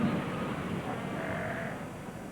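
Cape fur seals call at the Cape Cross breeding colony on the fog-washed desert coast, a dense chorus of bleating, sheep-like cries heard at a distance over a continuous surf-like wash.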